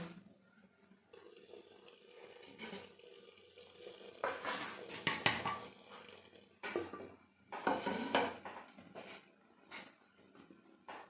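A steamer pot of puli pitha comes off the stove with close metallic clanks, scrapes and rattles of pot and lid, plus some light water patter, in irregular bursts with quieter gaps.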